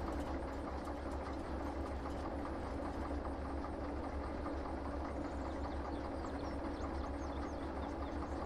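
Train rumbling in the Derail Valley simulator game, a steady mechanical chugging drone with rhythmic clatter, faint and continuous throughout with no voices.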